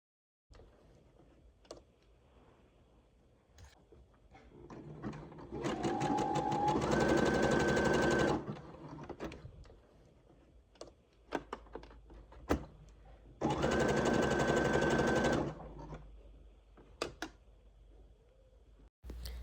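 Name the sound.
sewing machine top stitching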